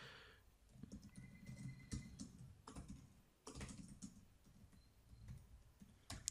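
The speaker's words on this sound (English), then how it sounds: "then you can just start typing." Someone types a note on a computer keyboard, a quiet, steady patter of key clicks with small pauses between bursts and no voices.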